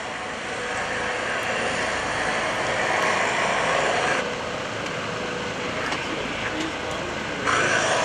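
At an airshow at Greenwood Lake, the Hackensack UMC EC135 helicopter comes in to land, its rotor and engine forming a steady broadband roar with a commentator talking over it.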